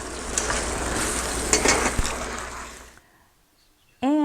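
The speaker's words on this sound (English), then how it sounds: "We've added that sauce and we're just going to be stir frying that and stir frying that as the sauce thickens" Pepper steak stir-fries in a pan as its sauce thickens, with a loud, dense sizzle and scraping stirs for about three seconds. The sizzle then cuts to near silence before a voice begins speaking.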